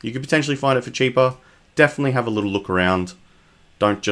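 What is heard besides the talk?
No distinct noise like a dog, phone or traffic.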